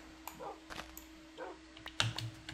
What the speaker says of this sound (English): All my dogs are coming to me.